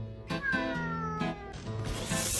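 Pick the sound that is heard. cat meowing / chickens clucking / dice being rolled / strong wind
cat meowing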